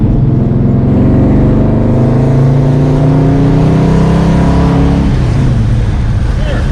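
A 1968 Dodge Coronet R/T V8 idles roughly and revs up loud and close, with a steady low rumble and rising pitch sweeps. People talk over it.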